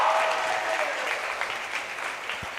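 Crowd applause at a high school volleyball match in a gym, Loretto versus Collinwood, a steady wash of clapping that holds fairly loud through the whole stretch with no talk over it.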